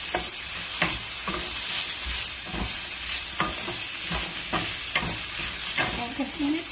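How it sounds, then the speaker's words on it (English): White onion frying and sizzling in a pan for a ginger and scallion lobster noodle dish, with a steady hiss broken by repeated scraping stir strokes close up, no talking. "continue to stir until the fragrance comes out from this white onion"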